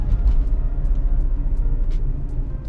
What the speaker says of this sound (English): this car does well with its 4-cylinder engine and its gearing